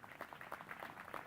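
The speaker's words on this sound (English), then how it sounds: "let's give you a round of applause" A round of applause for the Board of Governors at the Nixon Hall groundbreaking ceremony, a steady, faint, distant patter of many hands clapping at once.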